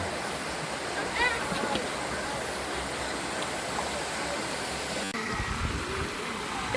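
Steady broadband rush of a mountain waterfall, continuous and moderately loud, with a brief bump near the end; faint voices may be present underneath.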